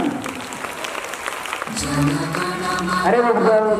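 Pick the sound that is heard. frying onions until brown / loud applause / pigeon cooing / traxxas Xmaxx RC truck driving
loud applause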